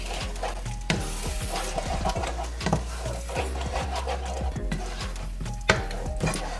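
A spoon scrapes and stirs besan into a junka mixture in a pan, with repeated rubbing, scraping strokes and a soft sizzle underneath, close and steady with no talking.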